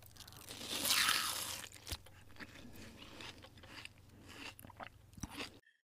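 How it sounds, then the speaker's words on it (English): Cereal is eaten in the Roblox game Bloxburg, with a burst of crunching near the start followed by softer, quieter chewing and crunch bits, close and fairly faint without talk. "Let me eat my cereal."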